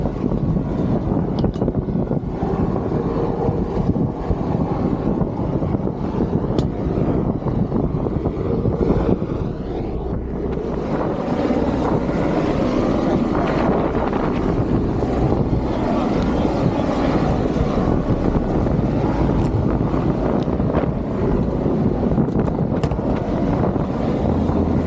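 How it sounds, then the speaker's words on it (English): A rescue helicopter approaches over the sea, its steady engine and rotor drone blending with heavy wind noise throughout, loud and continuous with no voices. "they could hear the helicopter in the distance, and pretty quickly I could hear it as well"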